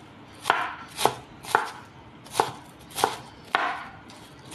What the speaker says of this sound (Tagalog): because I'm cutting the onions